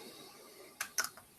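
A few quick computer keyboard keystrokes, faint and clicky, in a short burst after a quiet stretch of room tone with no talking.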